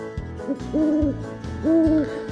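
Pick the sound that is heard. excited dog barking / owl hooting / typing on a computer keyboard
owl hooting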